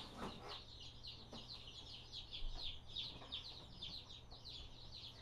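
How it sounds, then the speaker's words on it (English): Day-old chicks peep in a soft, steady chorus of high chirps, faint and continuous against a low background hum. "All of these chickens were hatched yesterday"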